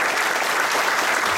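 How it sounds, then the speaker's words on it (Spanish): An audience at a seminar on cutting tools applauds in a dense, steady burst of clapping, close and loud throughout the short moment. "se merece un aplauso muy grandioso"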